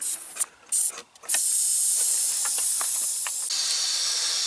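Compressed air escapes from a big truck's disconnected air line, a few short bursts of hiss and then a loud, continuous, close rush of air.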